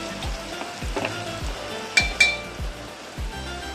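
Spices crackling in hot oil as turmeric powder goes in while cooking a Bengali fig curry, a steady close sizzle punctuated by regular metallic clinks of a spatula against the pan and a couple of sharper scrapes.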